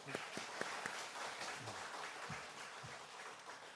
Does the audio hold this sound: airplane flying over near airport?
no